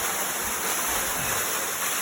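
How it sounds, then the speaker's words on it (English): A waterfall at Lekdush rushes as a steady, loud, broadband roar of falling water, constant throughout with no voices. "Into the waterfall!"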